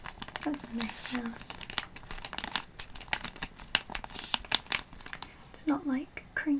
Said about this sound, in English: It's not like crinkling, it's like rippling, sort of.